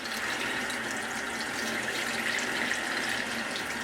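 Running tap water pours steadily as a makeup brush is rinsed under it, a continuous close splashing hiss with no talk.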